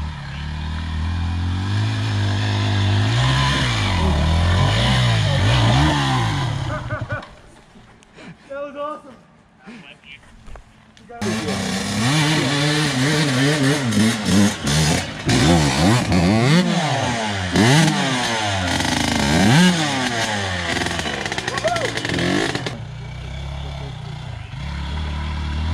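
A dirt motorcycle engine revs and snarls hard while climbing over rocks, rising and falling in pitch with clattering bursts, a short dip to near idle midway, then loud sustained revving again.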